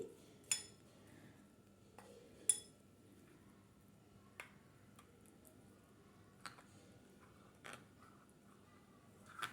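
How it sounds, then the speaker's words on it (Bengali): A spoon stirs chopped dark chocolate melting into hot milk for barfi, giving sparse, faint metallic clinks against the pot every couple of seconds over a quiet background. "ভালো করে আমি নেড়ে সেড়ে মিক্স করে নিচ্ছি আর চকলেটটা গরম দুধের সাথে গলে যাবে"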